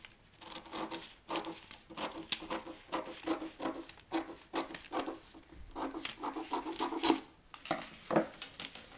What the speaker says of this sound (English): just cut along this line, cut away the excess